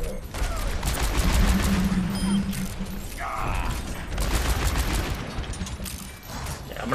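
Four revolver shots from McCree in the Overwatch video game crack out amid dense, loud battle noise, broad bursts clustered around mechanical clicks and ratcheting sounds.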